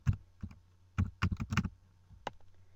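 Several quick clusters of key clicks from a computer keyboard while entering a menu item in a WordPress admin panel, close and fairly quiet, with short pauses between bursts.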